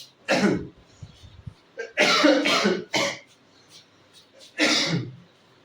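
Several close, forceful coughs in separate bursts, the first and middle ones loudest, with short quiet gaps and faint breaths between them.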